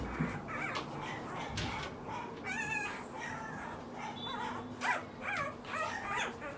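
Six-day-old puppies give soft, high-pitched squeaks, whimpers and yelps in a scattered, irregular chorus, faint and close, with occasional handling noises.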